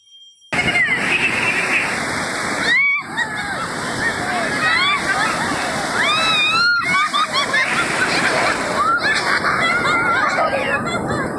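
Big sea waves crash and slosh loudly and close by at Digha beach in rough weather, with splashing surf almost continuous throughout and people's voices and shouts mixed in.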